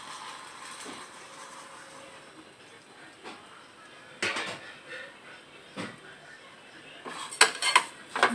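Semiya frying in a kadai for sabudana semiya kheer, stirred with a metal spoon that clinks and scrapes against the pan in scattered taps, growing busier near the end, close but quiet over low background hiss.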